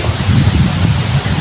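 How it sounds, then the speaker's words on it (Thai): A wind gust sweeps through a forest after a long night and day of rain, a steady, fairly loud rustling roar of leaves and air close by, with no talking. "ลมมาแล้ว"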